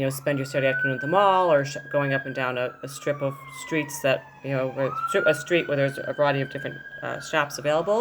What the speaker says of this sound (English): I'm sorry about the siren outside.